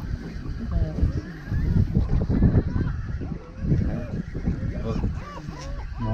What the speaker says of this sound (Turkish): Şarkı söylüyor martılar.